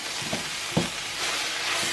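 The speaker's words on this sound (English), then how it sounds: "That nice sizzle of the fat on the base of the pan." Steady, loud sizzling of fat in a hot frying pan while making nachos, with a couple of faint clinks of a utensil against the pan.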